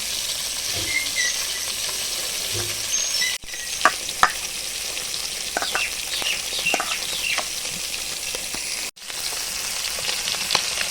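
Tilapia fish frying in hot oil in a home kitchen, a steady close sizzle and crackle throughout with scattered sharp pops and spits, no talking.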